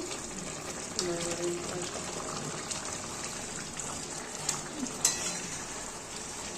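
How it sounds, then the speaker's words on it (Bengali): Bottle gourd kofta curry with garam masala sizzles in a pan while a spoon gently stirs it, a steady soft frying hiss with small scraping clicks. "হালকা হাতে একটুখানি ওলট পালট করে দিচ্ছি।"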